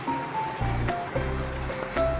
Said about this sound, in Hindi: ये देखिए इस तरह से यूँ मसल के अच्छी तरह से इन चीज़ों को आपने मिक्स करना है।